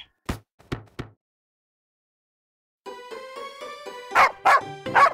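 A cartoon dog in a children's Aesop fable story barks three times in quick, sharp, close yips. After a pause, bright music starts and two or three more barks punch through it.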